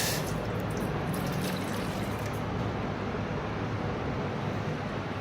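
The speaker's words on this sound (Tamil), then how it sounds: "அதில் ஒரு கிளாஸ் அளவுக்கு தண்ணியை ஊற்றுறேன்" A glass of water is poured into a pot on a stove, a steady splashing stream that runs continuously for several seconds, close and moderately loud, with no talking.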